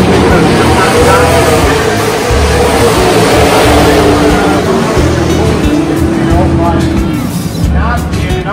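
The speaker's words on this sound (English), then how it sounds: "It is Super Stock Racing on Friday night" Super Stock race cars roar together at a Friday night race start, a dense, loud wall of engine noise with rising and falling tones throughout, under a commentator talking.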